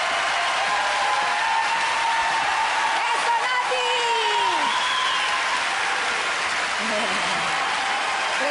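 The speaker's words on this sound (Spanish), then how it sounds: "Un fuerte aplauso para ella." Concert audience applauding a singer at a tribute show of Festival OTI songs, steady broad clapping throughout with a voice speaking over it.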